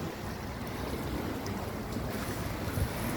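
Godavari river waves washing steadily at the bank, a continuous broadband roar with wind buffeting the microphone, close and loud with no voices.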